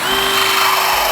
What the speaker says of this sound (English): Drill bit broke.